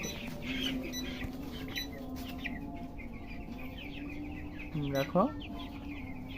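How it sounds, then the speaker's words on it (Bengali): A large farm-raised chicken clucks and squawks as it is grabbed on a poultry farm, with a brief, louder burst of agitated calls near the end over steady background noise and a person talking. "বড় একটা মুরগি ধরছে।"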